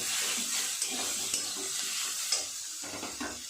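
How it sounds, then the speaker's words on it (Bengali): Greens (saag) frying in a pan while being stirred, a constant hiss of sizzling with soft scraping strokes of a spoon every second or so, close and fairly quiet. "একটু ভালো করে নেড়ে চেড়ে নেব।"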